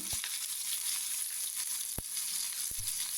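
Continuous oily sizzling and crackling of pearl spot fish frying in an oiled pan, with a few sharp clicks and taps on top, no voices.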